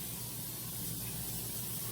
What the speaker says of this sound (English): it's a non-stick pan, but I always spray it with Pam